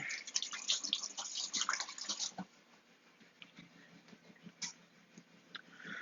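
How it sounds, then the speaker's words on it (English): Tap water runs in a kitchen sink while hands are washed during baking, a steady splashing flow that is louder at first and then settles into a quieter trickle with small drips. "Right, just wash my hands."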